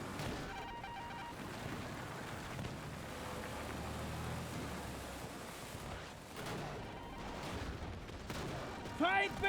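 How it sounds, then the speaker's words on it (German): Enemy gunfire crackles in dense, steady bursts through a noisy Battlefield 2042 firefight, with voices speaking over the din and a sharp burst near the end. "Die schießen auf uns!"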